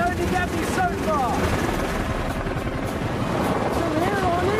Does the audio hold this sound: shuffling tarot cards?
no